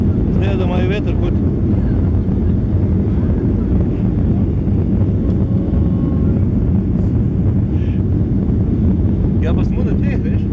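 Cabin noise from a Boeing 737-800 landing at Treviso: a loud, steady roar of engine and airflow lasts throughout, with brief voices and small knocks near the start and end.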